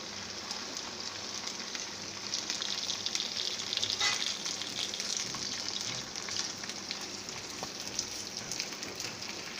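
Okra frying in hot oil for a bhindi gosht makes a steady, soft crackling sizzle, even and continuous throughout with a few louder pops, and nobody talks.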